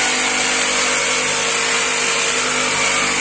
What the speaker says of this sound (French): Comme ça, Liam, il apprend à faire de la scie sauteuse.